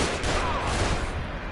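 Enemies fire down from above in the survival horror game The Evil Within: a dense, loud, continuous wash of gunfire with no clear gaps between shots, filling the whole brief moment.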